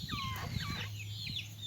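Backyard chickens, including a rooster, cluck and chatter nearby in a steady stream of short calls and trills over a low constant hum, with no talking.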